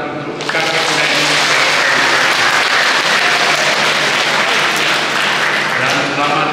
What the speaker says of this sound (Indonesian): Orang tepuk tangan untuk kakek, nenek,